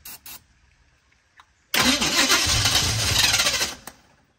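A 1980 Chevy K30 truck's carbureted engine, fitted with a new starter, catches and roars to life, running loudly for about two seconds before dropping off. A few faint clicks and a short blip come beforehand.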